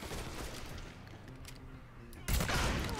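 A gunshot rings out in the video game Mafia 3, one sharp loud crack near the end following a quieter stretch of game ambience; no talking.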